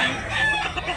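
A fighting rooster, a three-year-old derby-size gamecock, crows loudly and close up in one drawn-out call that fills the whole moment.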